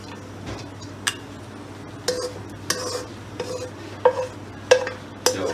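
Vermicelli roasts in butter in a pan over low heat, with a soft continuous hum beneath sparse, distinct scrapes and clinks of a spoon stirring against the metal pan.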